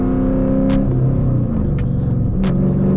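A Dodge Challenger engine drones loudly from inside the car while being shifted up through the gears without the clutch, its pitch dropping and climbing as each gear engages, with a few sharp hissing bursts.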